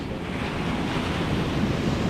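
Ocean surf washes up on a beach in a continuous close roar, mixed with wind buffeting the microphone and no voices.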